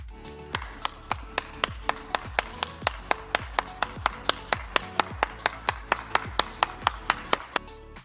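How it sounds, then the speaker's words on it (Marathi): Steady rhythmic hand clapping at a welcome ceremony, about thirty sharp claps in even time, close and loud with nothing else around them. "टाळ्या."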